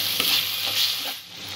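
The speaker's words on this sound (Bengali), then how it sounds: "মশলাগুলো একটু কষে নেব।" Spice masala for restaurant-style chicken bhorta sizzles in hot oil in a pan while being stirred, a steady close frying hiss with soft scraping strokes throughout.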